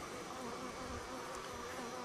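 A steady, dense hum of many honeybees buzzing around a hive with a freshly added super, continuous and fairly soft, with no voices.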